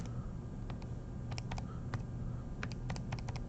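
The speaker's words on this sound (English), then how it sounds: "I hope when I'm typing in my calculator" Soft, quick clicks of calculator keys being pressed in short irregular bursts, faint over a steady low background hum.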